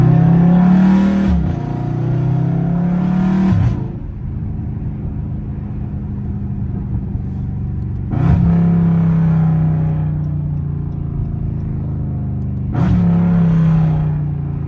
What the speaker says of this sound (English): Downshifting POV. You know what I'm saying? Catless Scat.